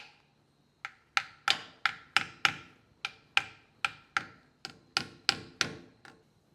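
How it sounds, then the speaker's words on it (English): A ball peen hammer taps a pinion seal into place on a Jeep axle, giving about fifteen sharp metallic knocks in an uneven, steady rhythm, close and clear with nothing else under them. "you're going to start tapping the seal in with the ball peen hammer"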